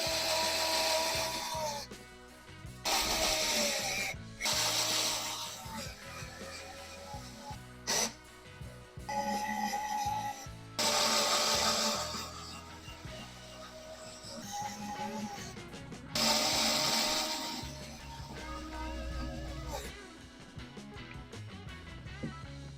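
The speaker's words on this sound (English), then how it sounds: "take 8 of the machine screws and fasten them in" Machine screws being driven into a 3D printed guitar core, bursts of whirring power-driver noise separated by short pauses and light clicks, close and fairly quiet.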